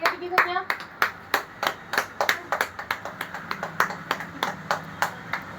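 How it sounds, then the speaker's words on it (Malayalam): At a small cake-cutting celebration, hands clap close by in a quick, uneven series of sharp smacks. They run steadily throughout while voices talk and exclaim underneath. "കൈയടിക്കോ ഞാൻ"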